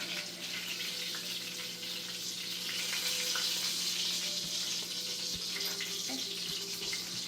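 Quiet, steady sizzling of breaded chicken frying in a pan, a continuous hiss with a few small pops and no voices.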